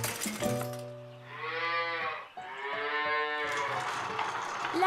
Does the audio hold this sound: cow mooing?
yes